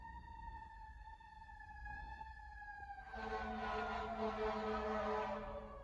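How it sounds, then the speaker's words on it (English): A siren wails at a distance in Washington, D.C., a steady falling tone that swells into a louder, richer wail partway through, fairly faint overall. "We're all gonna have to listen to the siren."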